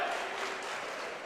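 Loud Lee's Summit High School crowd cheering at a boys' basketball game, heard as a brief, diffuse, steady roar of many voices that stays fairly faint and distant throughout.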